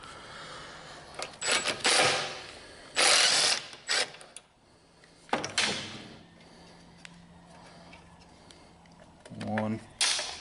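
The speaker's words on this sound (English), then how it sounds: "you can get to it with a 3/8 socket and a little extension on your little rattle gun" A small rattle gun with a 3/8 socket and extension spins out lawnmower carburetor screws in several short, loud ratcheting bursts separated by pauses, ending in a quick buzzing rattle, with some talk nearby.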